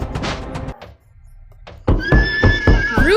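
Horse monster from the video game Mutants neighing loudly in repeated harsh whinnies with rising squeals, after a quieter stretch with low thuds.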